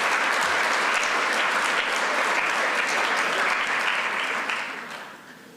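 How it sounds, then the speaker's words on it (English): Sustained applause from an audience at a school speech night competition welcoming the evening's MC, a dense steady clatter of many hands that fades out near the end. "let's give her a round of applause and welcome your MC for tonight"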